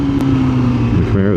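Dodge Challenger and Chevrolet Camaro cars pass nearby with a loud steady engine drone that rises and shifts in pitch near the end, heard from a motorcycle on the road.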